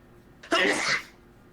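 A single sharp sneeze, close and loud, bursting out suddenly in a quiet lecture room and fading within half a second.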